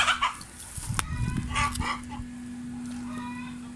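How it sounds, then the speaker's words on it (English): A backyard hen clucks close by in a garden coop area, a few short rough bursts over the first two seconds before fading into quiet background hum. "we've got the chicken coming out now"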